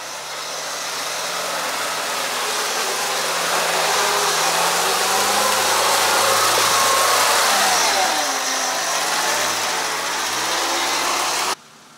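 A Jeep Wrangler Rubicon engine labours steadily up an off-road hill. The mid-pitched drone holds for most of the stretch and rises and falls with the load, with no voices, then cuts off abruptly near the end.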